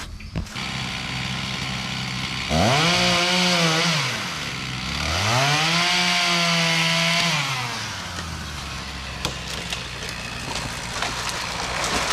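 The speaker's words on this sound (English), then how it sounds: "I'm going to warm my saw up and then we'll get started." An Echo chainsaw warms up outdoors before tree felling, idling and then revving twice in rising and falling bursts of loud buzzing whine before settling back to idle.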